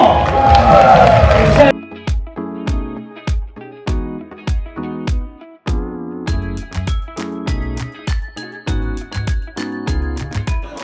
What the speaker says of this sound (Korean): 다시 한번 팀장 박수 한번 보내주세요